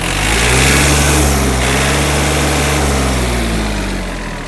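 A Yanmar US-31D mini tractor's 31-horsepower engine idles close by, a loud, steady low-pitched drone that holds evenly before easing off slightly near the end, with no speech.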